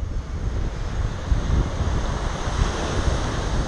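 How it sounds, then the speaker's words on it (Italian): North wind gusting over a beach at Praia Laginha in Mindelo, São Vicente, with ocean surf rolling in beneath it; a steady, loud roar of wind rumble and breaking waves fills the whole stretch with no voices. "quello che sentite è il vento del nord"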